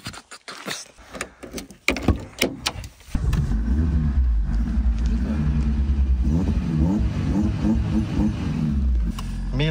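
A car engine fitted with a Miltec full stainless steel exhaust blips in a few sharp bursts, then settles into a loud, throaty, sustained drone with occasional revs rising and falling.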